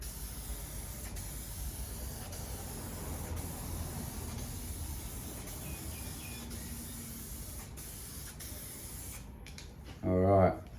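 2K primer hisses from an aerosol can in a long, steady, fairly faint spray, followed by a short louder burst near the end as the can is handled.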